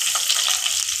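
Chopped green chillies drop into hot peanut oil, giving a brief, loud, dense sizzle that lasts about a second.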